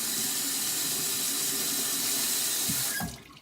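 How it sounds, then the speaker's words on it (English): Tap water runs steadily over a knife blade, rinsing off 4K whetstone grit in a continuous close splashing hiss that cuts off just before the end. "Wash off any of the 4K grit that still remains."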